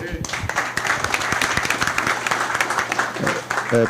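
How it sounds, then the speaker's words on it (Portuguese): Applause from the audience at a national CRECI inspection meeting in 2024, dense clapping filling the hall for about four seconds, with voices mixed in. "As palmas, por favor, meu irmão."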